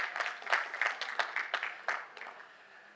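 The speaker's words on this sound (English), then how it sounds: "There's some applause." A small audience at a COP28 nature event gives brief, thin applause, a handful of separate claps in an uneven rhythm that thin out toward the end, with no talking.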